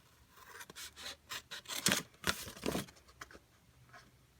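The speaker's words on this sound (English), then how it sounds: "we're going to trim up to the score lines on all of these" Scissors snip through cardstock, trimming in toward score lines while building a tall treat box: a run of short, crisp cuts and paper rustles, close and fairly quiet, with a few louder snips clustered in the middle and no talking.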